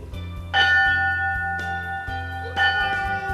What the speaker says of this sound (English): Fire Chief Tom Garrison started the 20th anniversary ceremony by honoring former Sparks firefighters who passed away during the previous year by ringing a bell.